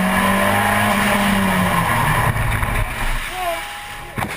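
A BMW E46 M3 engine breathing through a CSL intake on a fast mountain drive, a loud continuous droning growl that holds steady before easing off, with road and wind roar underneath.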